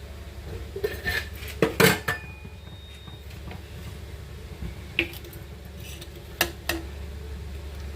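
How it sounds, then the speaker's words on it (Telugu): A metal kadai pan set down on a lit stove, with a few sharp clanks and clatters of metal against the burner standing out over a quiet background hum. "స్టవ్ వెలిగించి కళాయి పెట్టాను."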